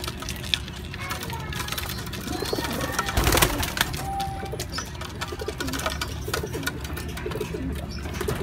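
Racing pigeons in a loft coo with low, throaty rolling calls amid constant rustling and background activity, while someone talks nearby.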